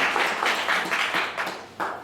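Audience applause welcoming a speaker at a university law lecture, a short burst of clapping with uneven pulses, moderately close, fading after about two seconds.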